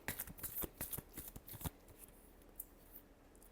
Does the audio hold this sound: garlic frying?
no